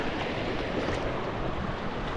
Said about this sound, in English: crossing Calcium Creek